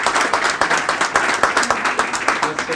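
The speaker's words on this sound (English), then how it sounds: "Hey, Dov, a big, huge round of applause." An audience at a startup meetup in Tel Aviv gives a round of applause for the guest speaker, with loud, fairly rhythmic clapping in regular pulses and some voices faintly underneath.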